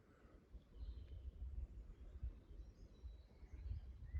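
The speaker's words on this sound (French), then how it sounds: "Vous entendez les oiseaux." Birds singing in fir woods on a hillside walk: faint, scattered chirps and short song phrases in the distance, over low rumbling footsteps and outdoor noise.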